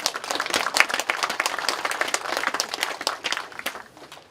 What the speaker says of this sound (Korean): 일어나서 박수 한번 받으세요.